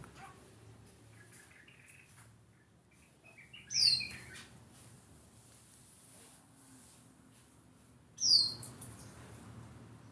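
Birds in an aviary give two sharp, bright chirps several seconds apart, close and clear over quiet background hum, with a possible dog bark in the distance.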